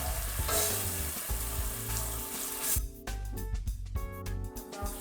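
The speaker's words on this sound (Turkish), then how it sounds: "Bir miktar nar ekşisi koyuyorum. Tekrar şöyle bir karıştırıyorum." Sauce with pomegranate molasses stirred in a pan for stuffed peppers, with a loud, steady sizzle and a wet, bubbling crackle throughout, close and with no talking.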